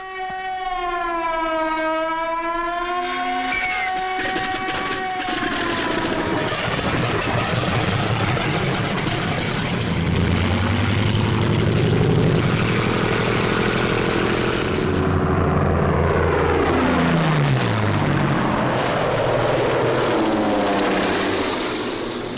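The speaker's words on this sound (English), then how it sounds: "This captured film shows how quickly the 109s and the Focke-Wulf 190s got into action." WWII German Bf 109 and Focke-Wulf 190 fighter planes in flight, a loud sustained engine roar that swells and falls as aircraft pass, starting with a wavering siren-like whine and continuing without speech.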